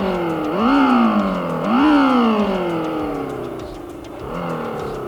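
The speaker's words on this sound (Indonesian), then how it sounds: "motornya ada efek suara seperti motor mesin bakar pada umumnya" Simulated combustion-engine sound from a United E-Motor T18 electric maxi scooter as the throttle grip is twisted: synthetic revving tones rise in pitch in two sharp bursts, then wind down, with a third softer rev near the end.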